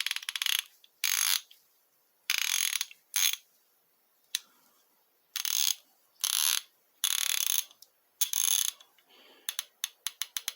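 Close, crisp bursts of clicking from a Taiwan-made Gearwrench 81309 ratchet with a fine-tooth mechanism, cranked in short repeated strokes with brief pauses between, no talking.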